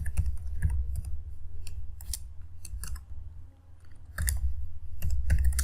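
Irregular bursts of keystrokes on a computer keyboard as C code is typed, close and fairly quiet, with short pauses between clusters of clicks over a low steady hum, no voice.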